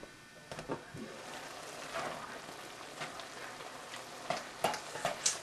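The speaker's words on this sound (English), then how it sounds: "hamburger and sausage is cooking nicely" Hamburger and sausage meat frying in a pan for stuffed bell peppers, a soft steady sizzle with scattered crackles and a few brighter pops toward the end, no talking.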